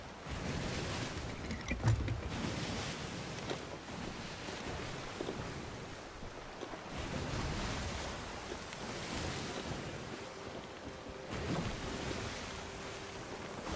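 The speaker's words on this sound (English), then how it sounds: "the waves are harsh and strong" Harsh, strong ocean waves in the pirate game Sea of Thieves wash and roll continuously at a steady loudness, with gusty wind noise and occasional creaks from the ship mixed in.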